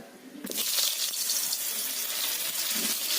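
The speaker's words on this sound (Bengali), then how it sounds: "পটলগুলোকে আমি ভালো করে ভেজে নেব" Pointed gourd (potol) pieces fry in hot oil with a steady, bright sizzle that rises sharply after a brief quieter start and holds loud and close throughout.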